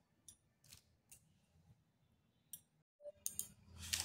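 A knife cutting banana stem (thor) on a board, sharp crisp chops in an irregular rhythm, close and fairly quiet, with a brief pause and a denser flurry of cuts near the end.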